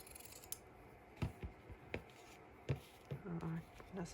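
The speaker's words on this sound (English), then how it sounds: "Pink handled scissors." Pink-handled scissors cut paper in a few crisp, separate snips and rustles, close and quiet, with no voices.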